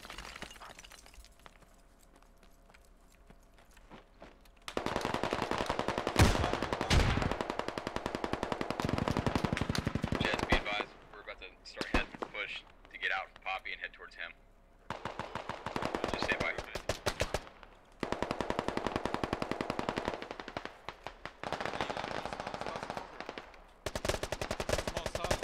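Gunfire in the military shooter game Squad: loud bursts of automatic fire and sharp single shots in several clusters, broken by short quieter gaps, with voices faintly under the action.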